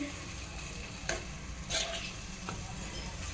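Eggplant masala with green onion and green garlic stirred in a pan, a soft low sizzle with a few sharp scrapes and clinks of the spoon against the pan, quiet and close.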